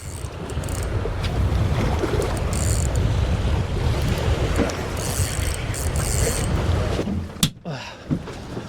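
Boat motoring out through the Solent at sea on a fishing trip toward the Needles, a steady rumbling hull-and-engine wash mixed with wind buffeting the microphone and splashing water, loud and continuous.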